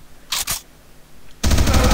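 Gunfire in the AssaultCube video game: two quick sharp shots, then a loud sustained burst of rapid automatic fire close by.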